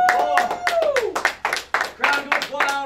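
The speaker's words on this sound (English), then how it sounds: "Crowd goes wild." Guests at an Elvis-themed Las Vegas wedding clap in short, uneven bursts, mixed with voices and cheering.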